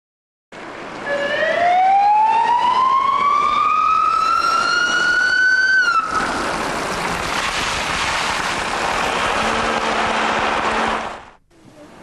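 Siren of a van-style police vehicle in Tampere, Finland, a loud, close wail that climbs steadily in pitch for several seconds, then breaks into a rough, noisy rumble before cutting off.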